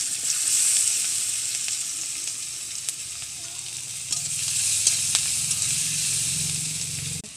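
Chopped onion hits hot oil with dry red chilli and panch phoron, a close, steady sizzle and hiss with occasional stirring scrapes, swelling slightly as frying continues.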